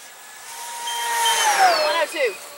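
A foamboard RC plane making a high-speed pass: a rising whine builds to a peak, then drops sharply in pitch as it sweeps by, heard over outdoor background.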